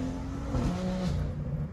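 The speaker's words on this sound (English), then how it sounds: "I'm going to show you exactly how I unlocked my stock BMW exhaust to make it much louder." A BMW M2 with a modified, unlocked stock exhaust revs loudly and steadily up close, its engine note rising and holding with no talk over it.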